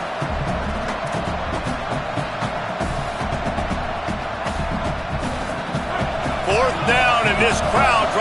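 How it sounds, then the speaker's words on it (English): Stadium crowd at a football game roars steadily throughout as the defense lines up, swelling louder near the end, with a commentator talking over the noise. "This crowd trying to help this defense rise to the occasion."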